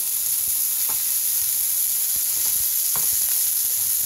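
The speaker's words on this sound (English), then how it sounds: "I'll sear the other side. Alright, the quick sear." Wagyu beef searing in a pan just after the flame is switched off, a dense, loud, steady hiss with a few soft pops and clicks, close up and without voices.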